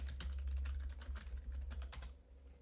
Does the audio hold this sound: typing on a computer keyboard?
yes